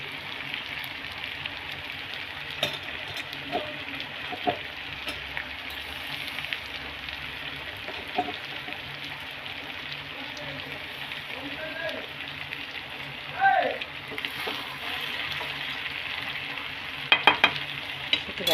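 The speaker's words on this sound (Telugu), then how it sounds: "చక్కగా ఫ్రై అయిపోతుంది." A chicken feet curry fries in a pan with a continuous close sizzle, spoon stirring and scraping against the pan, and a few louder clatters near the end.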